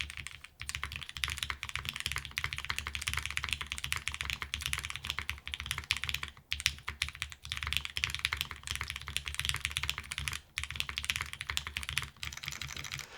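Typing on a Juna mechanical keyboard with subtle-sounding switches: a steady, dense patter of soft key presses up close, quiet and continuous with brief pauses.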